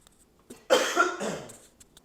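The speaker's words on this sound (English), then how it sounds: "I got a cough." A single rough, breathy cough bursts out close by, followed by a short raspy trailing exhale.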